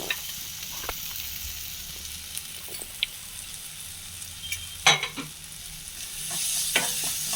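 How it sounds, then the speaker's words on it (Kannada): Masala and tomato frying in a kadai while kadai paneer is made: a low, steady sizzle up close, broken by sharp clinks and scrapes of a spoon stirring against the pan. "ಮಸಾಲೆನೂ ಸ್ವಲ್ಪ 1 ನಿಮಿಷ ಇದೆ ನೋಡಿ, ಫ್ರೈ ಆಗಿದೆ ಚೆನ್ನಾಗಿ"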